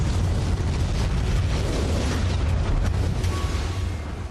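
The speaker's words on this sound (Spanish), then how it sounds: "La explosión fue equivalente a la de una cabeza nuclear estratégica." The volcanic eruption of Mount Pelée at Saint-Pierre rolls out as a sustained, dense roar: a loud, continuous rumbling blast with no break, filling the whole span and easing slightly near the end.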